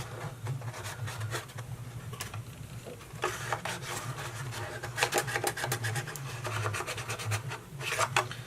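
Fingertip rubbing dried glue off a red and white paper bowling pin gift box, giving soft, continuous close scratching and rubbing with faint papery friction, no voices.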